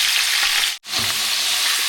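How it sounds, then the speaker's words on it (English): Meat frying in hot oil for a dish with beans and vegetables gives a loud, steady hiss and crackle, briefly cut by a moment of silence before the sizzling resumes just as strongly. "Now the oil is hot, so I will put the meat."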